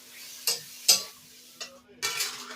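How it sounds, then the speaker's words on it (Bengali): Chopped tomatoes fry with spices in a pan for a tilapia fish curry. A few distinct spatula scrapes and clatters come in separate bursts over a soft background sizzle and a faint steady hum, close and fairly quiet. "টমেটোটাকেও এর সঙ্গে কিন্তু ভেজে নেব"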